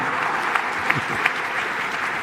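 Applause from a live event audience as the guests are thanked, a steady, dense clapping that continues evenly throughout with a few sharper claps standing out, no talk over it.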